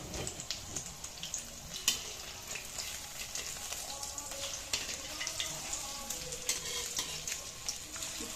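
Rice grains frying in a hot pan while being stirred, giving a soft continuous sizzle broken by scraping and clicking strokes of the spoon, close up and fairly quiet, with no talking over it.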